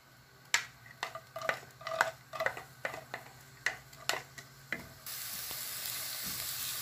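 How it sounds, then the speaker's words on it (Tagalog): Onion, garlic and tomato sautéed in a pan for a chicken molokhia dish, a series of sharp spoon-against-pan knocks and scrapes over faint sizzle, ending in a louder steady hiss as more goes in. "At gisahin lang po natin ang sibuyas,"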